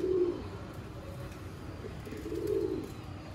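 Sialkoti Sheikhan wale breeder pigeons give two soft, low coos, one at the start and a longer one near the end, faint against quiet background noise.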